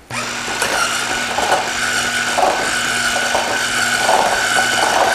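An electric hand mixer whisks soft room-temperature butter and an egg together in a bowl, a loud steady motor whir with a constant hum running unbroken throughout.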